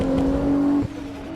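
A Tofaş car revs hard with wheelspin in Assetto Corsa, a steady high engine drone that drops sharply partway through and settles lower, loud and close with no talk.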